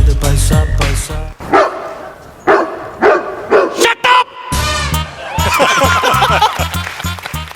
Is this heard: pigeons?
no